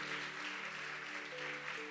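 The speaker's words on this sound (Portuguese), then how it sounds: "Aplaude mesmo ao Senhor." Steady, dense applause from a church congregation praising the Lord, a continuous wash of clapping with sustained tones underneath, moderately loud and without speech.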